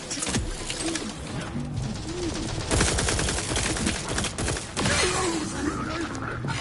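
Rapid gunfire bursts from a firefight in the video game Outer Worlds 2, dense and continuous with sharp volleys throughout, mixed with game effects and faint voices.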